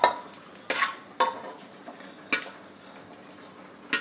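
Metal spoon scraping and tapping a pan while scooping out roasted onion, garlic, ginger and green chilli masala, several short sharp clinks spaced irregularly over quiet sizzle, with no speech.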